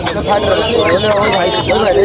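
Native roosters and hens at a fancy poultry market in Kaptan Bazar cluck and call continuously, close and busy, with voices talking among them.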